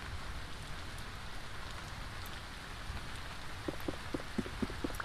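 Rain falling in the survival video game Vintage Story, a steady soft wash of drops with a cluster of sharper droplet taps near the end, quiet and continuous, no voices.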